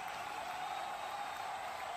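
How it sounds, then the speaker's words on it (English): A crowd applauding at an under-19 Asia Cup cricket semi-final between India and Bangladesh, a steady distant wash of clapping that holds evenly and faintly throughout. "Stand up and applaud the young man to shine in pressure."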